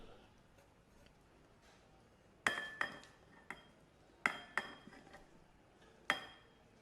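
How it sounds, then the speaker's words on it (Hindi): A cooled cooked mixture is scraped from one vessel into a large metal pot, giving a handful of sharp, separate clinks and knocks of utensil on metal, close and spaced irregularly over a quiet kitchen background. "अब एक बड़े साइज़ का बर्तन ले लेंगे और उसके अंदर इसको ट्रांसफ़र करेंगे"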